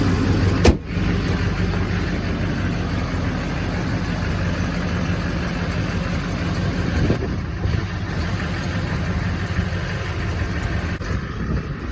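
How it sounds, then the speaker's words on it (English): Stock Duramax diesel pickup engine, a rust-free truck bought in Las Vegas, idling steadily after startup, a continuous near rumble with a brief click near the start and no talk over it. "So upon first startup, it sounds really good."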